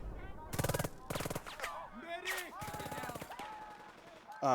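Tank gunfire in the video game Burden of Command hammers an infantry squad in several sharp automatic bursts separated by pauses, with a voice talking between them.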